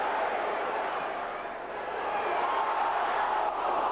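A Celtic football crowd at a 1992/93 match applauds in a steady, distant wash of clapping and murmur across the whole stretch.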